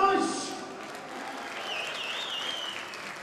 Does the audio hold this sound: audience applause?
yes